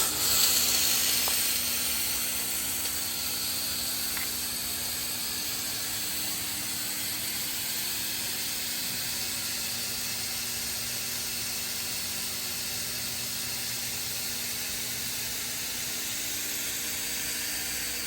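A 1500 watt fog machine runs nearby, giving a faint, steady hiss with a constant mechanical hum underneath and a slightly stronger burst at the start.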